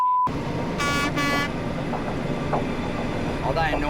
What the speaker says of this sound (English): Another road train's coming around this corner.